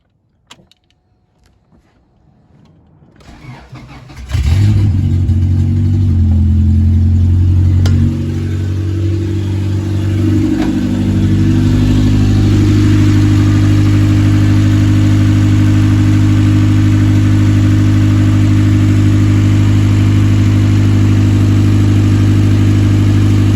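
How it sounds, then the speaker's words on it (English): Honda Civic fitted with a swapped B18C5 Type R engine cranking and catching after a few seconds, then settling into a loud, steady idle with a deep constant hum and no talking. "So the car is running now."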